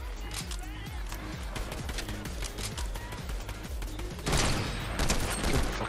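Gunfire in Fortnite Battle Royale: rapid bursts of shots crackle steadily throughout, growing louder and denser toward the end, with a player talking over the shooting.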